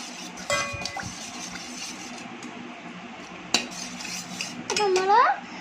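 Amruthampodi powder being stirred into water, a spoon clinking and scraping against the vessel in short bursts, with a sharper knock midway and a louder rattling swirl near the end.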